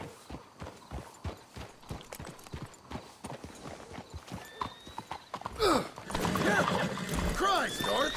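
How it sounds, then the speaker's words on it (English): Horses' hooves clip-clopping in a video game, a steady run of distinct close hoofbeats, then a horse neighs and blows loudly near the end over rustling movement. "Let's hitch the horses up ahead."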